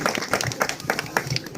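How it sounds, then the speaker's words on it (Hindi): A crowd at a civil defence volunteers' gathering in Delhi claps, a fairly loud, busy patter of hands, uneven but continuous, with voices mixed in underneath. "सारे जोरदार तालियां बजाते।"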